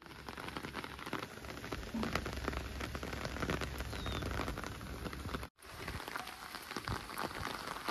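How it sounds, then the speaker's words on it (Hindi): Steady rain falling and pattering on surfaces outdoors, a dense continuous hiss throughout with one brief gap near the end. "क्योंकि बारिश हो रही है ना"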